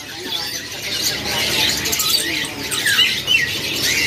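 Chirps and squawks from caged birds, including kadalan and makoa birds, fill a busy stall at Pramuka bird market, with steady overlapping high calls and a murmur of voices behind.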